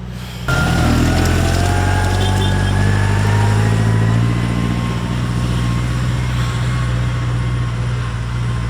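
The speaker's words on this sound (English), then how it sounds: "we'll just let this tractor go past" A tractor drives past close by, its loud, steady diesel rumble rising in at once and holding strong for several seconds with no talk over it.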